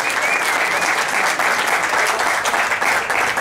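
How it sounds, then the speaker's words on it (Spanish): Loud, close audience applause at a national assembly for water and life, a thick continuous roar of many hands clapping at a constant level from start to finish. "Aplauso fuerte que se oiga, por favor."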